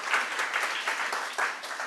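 Applause from a church congregation, a brief burst of lively clapping with a few swells, steady and moderately close throughout.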